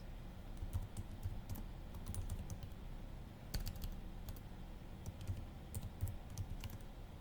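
Quick, irregular keystrokes clatter on a computer keyboard while bash commands are typed, faint and close, in scattered bursts with brief pauses between them.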